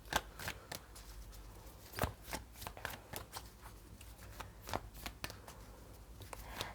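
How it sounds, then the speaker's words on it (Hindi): A deck of tarot cards is shuffled close up, giving repeated crisp riffling bursts and soft slaps in an uneven rhythm, quiet and with no talking. "चलिए शुरू करते हैं आपकी शफलिंग"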